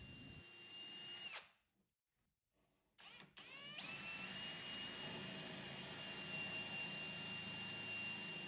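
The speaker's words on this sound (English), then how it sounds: "I'll drill through the drawer box to attach the drawer knobs" A power drill whines steadily as it bores through a wooden drawer box, briefly stopping, then restarting and running loud and continuous to the end.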